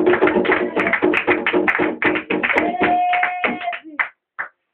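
Church congregation clapping loudly together to acclaim Jesus Christ, a dense rhythmic run of hand claps mixed with voices and a sustained tone before stopping abruptly.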